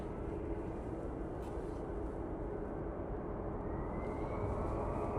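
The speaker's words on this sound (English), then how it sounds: "EasyJet we can hear spooling up now is the one that going to Durban. It's the 320 CEO." An EasyJet Airbus A320ceo at Manchester Airport spools up its engines on the runway, a distant broadband roar that swells steadily with a rising whine toward the end.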